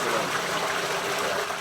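Water from a bucket splashes steadily onto a pot that has caught fire at a Jamaican street-food stall, a loud, continuous rushing gush with no voices over it.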